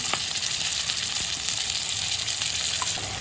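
Spice paste of turmeric, ginger, cumin and dried red chilli frying with potatoes in oil, an even, close, continuous sizzle with a few faint stirring clicks and no talking.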